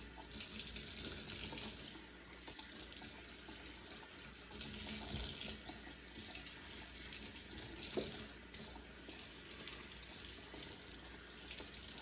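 Kitchen tap runs steadily while mustard and turnip greens are washed leaf by leaf, a constant close splashing hiss with no voices.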